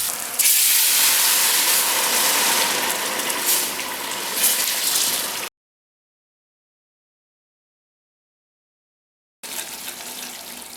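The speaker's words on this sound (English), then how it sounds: "allow it to simmer" Sauce for lamb nihari left to simmer in a pot with a couple of cups of water, giving a loud steady hiss and bubbling wash for about five seconds, then a silent gap, then the hiss returns.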